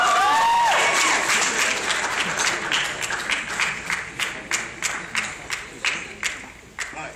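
Audience applause during a university talk, starting full and dense with a few voices early on, then thinning into slower, separate claps that fade out.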